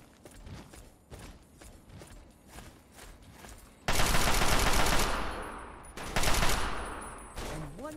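Rapid bursts of video game gunfire fill the first half, then a loud sustained burst of shooting with heavy blasts follows, close and dominant, with no talk over it.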